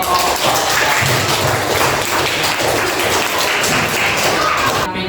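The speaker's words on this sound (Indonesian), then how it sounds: "Tepuk tangan untuk kelompok." A classroom group gets a dense, steady round of hand clapping with some tapping and thumps mixed in, loud and continuous for several seconds.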